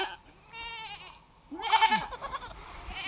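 Newborn kid goats bleat in two short bouts, the second louder and wavering, close by in a barn during kidding season.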